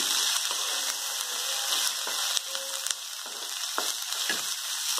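Okra with turmeric frying in a pan for an onion-okra vegetable dish, a close, even sizzle with a few faint stirring taps, steady throughout and without speech.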